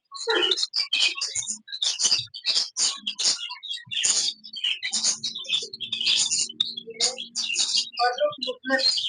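A pair of Australian parrots chirps and tweets in rapid, overlapping bursts with no pause for nine seconds, loud and close, with a faint low buzzing hum in the middle.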